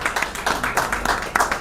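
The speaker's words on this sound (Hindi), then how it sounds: "मैं चाहूंगा मीडिया के लिए एक जोरदार ताली हो।" Audience applause for the media at a press gathering about a deemed university protest, a short burst of dense close clapping that stays steady throughout.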